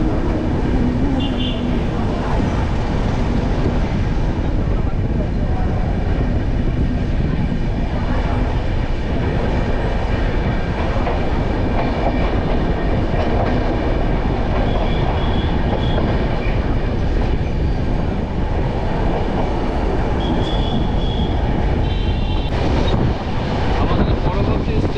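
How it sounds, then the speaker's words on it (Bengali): Inside the moving 13054 Kulik Express after leaving Rampurhat, a steady loud rumble of wheels on track and rushing wind fills the carriage, with brief faint tonal squeals now and then. "11:06 আমাদের ট্রেন ছেড়ে দিল কুলিক এক্সপ্রেস রামপুরহাট থেকে"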